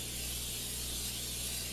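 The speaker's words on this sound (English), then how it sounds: "So I'm going to spray the pan" Cooking oil spray hisses onto a pan before protein pancakes are cooked: one steady, close, airy spray lasting under two seconds, with no talking.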